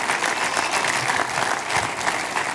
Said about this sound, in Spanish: Dale grandes aplausos al Señor.